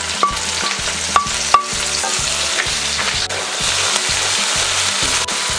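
Onion goes into a pan with ginger and garlic already frying in oil, giving a steady, close sizzle with a few sharp clicks and taps from stirring, heard alone without talk.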